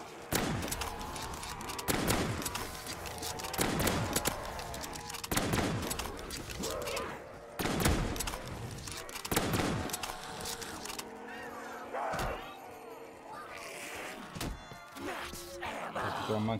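Repeated bursts of gunfire in Black Ops 3 custom zombies, a Scooby-Doo map, hammering at a steady pace through the whole stretch with game noise around them and a voice talking over the shots.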